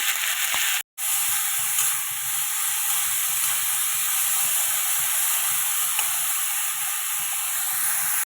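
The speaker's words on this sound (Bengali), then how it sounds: "এই যে আমার সজনে ফুলের ভাজা হয়ে গেছে।" Drumstick flowers fry in a pan with salt, making a steady, hissing sizzle close by that is broken once by a short gap, with faint stirring underneath.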